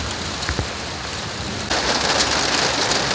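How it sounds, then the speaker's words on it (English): Rain falling on a new tarp, a dense steady patter that suddenly grows louder partway through and continues as a heavier, closer drumming. "I don't know if it's raining hard enough for us to go in there and check for leaks."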